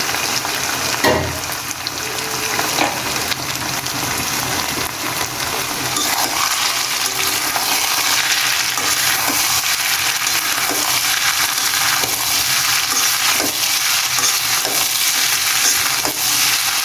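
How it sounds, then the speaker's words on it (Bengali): Eggs and potatoes with tomato frying in a pan, with a steady close sizzle and occasional stirring scrapes throughout and no talk. "তো ডিমটা আমি কম করে ভেজে নিয়েছি, আলু দেওয়ার পর আরও ভাজা হয়ে যাবে"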